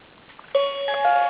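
A sensory alphabet poster for the letter T plays an electronic telephone ring after a button is pressed. The ring is a bright, steady tonal trill that starts abruptly and stays loud and close to the end, with faint handling sounds before it.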